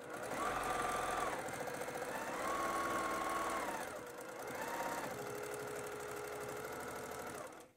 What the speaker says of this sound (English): And I'm going to sew all the way off the corner.